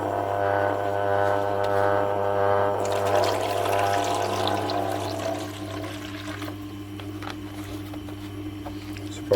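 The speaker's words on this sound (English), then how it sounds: "get some water in this tray." Water is poured into a tray for a knife-sharpening stone, a close, steady splashing pour over a low background hum that tapers off into quieter trickles and drips.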